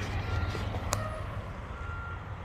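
A truck backing into a parking spot sends out a steady reversing beep at moderate distance over low engine rumble, with a faint voice in the background.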